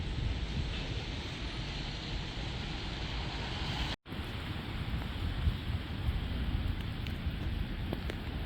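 Steady rain falls in city back streets, a dense, even hiss of drops at close range with traffic-like rumble beneath, briefly cut by a short gap midway.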